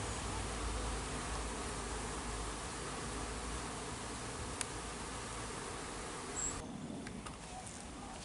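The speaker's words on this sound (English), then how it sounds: "we're right in the middle of the honey flow, and the bees are really working hard, as you can see, coming in and out." Honey bees fly in and out of a busy hive during the summer honey flow, giving a dense, steady buzzing drone nearby that thins slightly toward the end.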